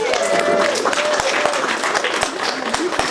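Audience applause at a university diaspora event, a steady wash of clapping hands with some voices and cheers mixed in throughout.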